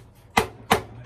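Onions chopped on a board in a home kitchen: three sharp, evenly spaced knife knocks, close and crisp, with quiet gaps between them.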